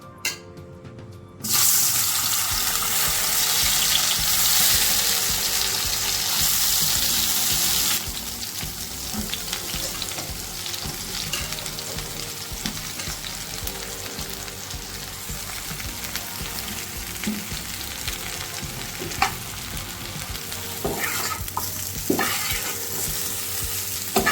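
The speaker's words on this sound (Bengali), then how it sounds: "বেগুন আলু হলুদ লবণ মরিচের গুঁড়া দিয়ে মেখে রাখছি এখন এটা ভাজবো" Eggplant and potato pieces coated with turmeric, salt and chili powder fry in a pan, sizzling loudly at first, then settling to a steady softer crackle with occasional stirring clinks, no talking.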